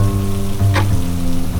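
A dense hiss of sudden rain pouring down at Tiracol Fort in Goa, steady and close, with a low hum underneath.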